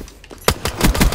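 Shotgun fire in the video game Call of Duty Black Ops 3, a few loud booming blasts in quick succession, close and punchy, with no talk over them.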